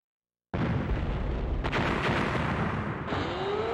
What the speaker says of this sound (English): What was that sound? It sounded like an explosion.